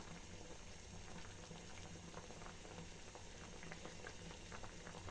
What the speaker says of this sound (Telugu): ఈ సగ్గుబియ్యాన్ని అంతా బాయిల్ చేసుకోవాలండి